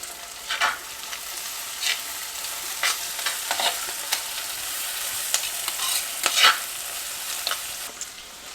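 Onions, crushed garlic and curry leaves sauté in a clay pot, giving a soft continuous sizzle broken by several brief scraping stirs at irregular intervals.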